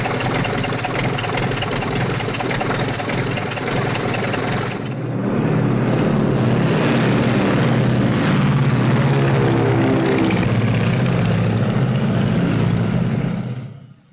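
A propeller airplane in a 1939 film drones with a loud, steady engine, the pitch shifting partway through as the engine note changes, then holding a throbbing hum before cutting off at the end.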